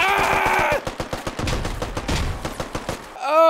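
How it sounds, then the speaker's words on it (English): Gunfire in the Squad military shooter video game: a rapid string of close, sharp shots in uneven bursts, with a brief tonal voice-like sound at the start and a groan at the very end. "Oh, I'm getting shot at!"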